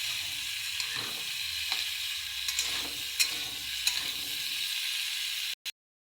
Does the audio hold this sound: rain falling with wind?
no